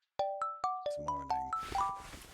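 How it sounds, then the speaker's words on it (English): A phone ringtone in a visual novel video game plays a bright chiming melody of repeated bell-like notes, loud and close, with a brief tail at the end and no talking. "My ringtone prized me from my slumber."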